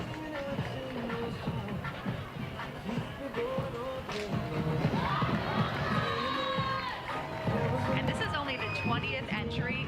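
A parade crowd at the Palm Springs Festival of Lights cheers for the Toro Canyon Aces Cheer squad, with shouting voices, whoops and children's cries over busy street noise.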